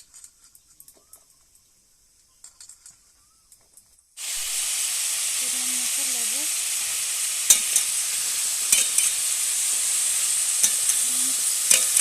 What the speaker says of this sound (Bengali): দিয়ে আমি পটলগুলো কষে নেব প্রথমে